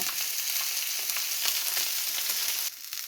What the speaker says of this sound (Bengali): এখন আমি ঘুরিয়ে ঘুরিয়ে মাছগুলোকে ভালোভাবে ভেজে নিব